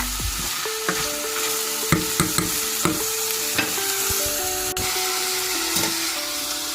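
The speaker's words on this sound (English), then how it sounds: "Keep stirring that around. Soften these vegetables up." Vegetables are stirred in a pot with a spoon, giving irregular scraping and clinking strokes over a constant sizzling fry, fairly close and loud.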